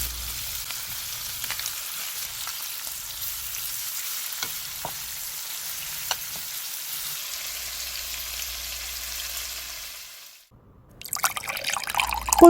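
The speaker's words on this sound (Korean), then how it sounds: "마늘이 반쯤 익을 때쯤 문어와 감자를 넣고 같이 구워줘요." Octopus and potatoes fry with garlic in olive oil on a grill pan, giving a steady close sizzle with occasional pops and stirring clinks. The sizzle fades out near the end.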